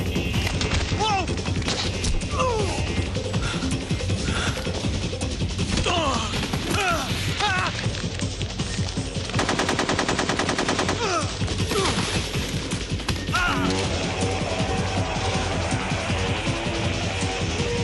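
Gunfire from the stealth action video game Metal Gear Solid 3: Snake Eater, with dense bursts of automatic fire and single shots running continuously under a game soundtrack and occasional voices.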